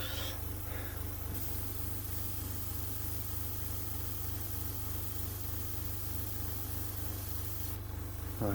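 A fine mist of acrylic paint hisses from an airbrush onto a Bandai A-wing model kit, a steady soft spray under a constant low compressor hum, with no talking.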